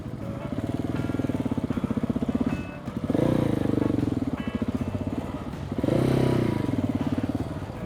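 A KTM 690 single-cylinder motorcycle thumps through a narrow wooded trail with heavy clutch work, its engine chugging close and loud and surging in repeated revs with clattering from the bike.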